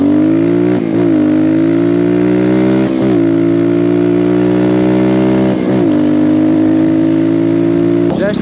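A new 2024 ERZ 250 Pro 250cc motocross motorcycle engine running close and loud, a steady buzzing idle with short throttle blips at intervals.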